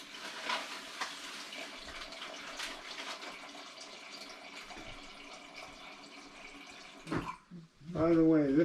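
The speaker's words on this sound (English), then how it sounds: "You just fill that up with some water." Tap water running into a NutriBullet cup, a steady moderate stream that ends abruptly, followed by a short burst of talking.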